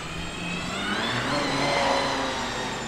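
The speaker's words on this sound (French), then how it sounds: "il y a une Valkyrie qui vient d'arriver" An Aston Martin Valkyrie supercar arrives with a high, whirring engine note that swells and rises in pitch as it draws nearer, loud and alone with no talk.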